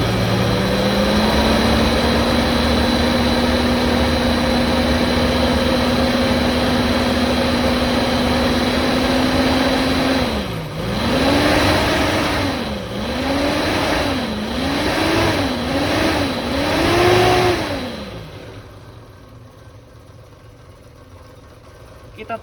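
A Suzuki Katana engine idles steadily, rises briefly, then is blipped through five quick rev swells before settling back down during a radiator coolant refill, close and loud.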